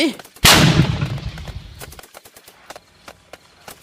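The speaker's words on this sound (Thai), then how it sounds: "เปิดกลเบา M60 ของมันหลวดลั่นออกไป ดังหูดับตับไม่" A single loud gunshot blast from an M60 machine gun rings out in a radio drama, followed by a decaying echo and scattered sharp cracks of more distant fire.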